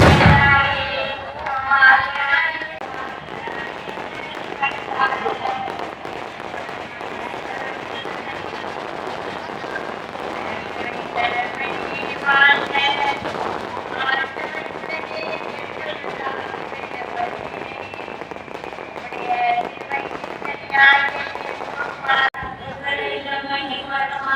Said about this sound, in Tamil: மறுபக்கம் இந்த தாறுமாறான வெடிகள்